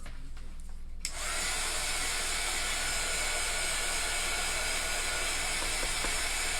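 Handheld craft heat dryer switched on after about a second, then a loud, steady close-up whoosh of blowing air drying shimmer paint, with no talking.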